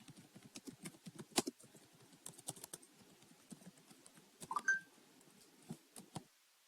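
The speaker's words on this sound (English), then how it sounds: "I'm going to type it" Typing on a computer keyboard close up, with quick irregular bursts of light key clicks and a few heavier keystrokes separated by short pauses, with no voices.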